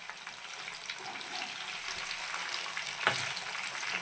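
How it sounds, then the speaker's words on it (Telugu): Large coated chicken pieces fry in oil for a crispy green chilli chicken dish, a soft continuous sizzle at low volume with one brief louder bubbling crackle near the end. "బాగా వేగనిద్దాం ఇంకా బాగా వేగాలన్నమాట వేగతా ఉంది బాగుంది"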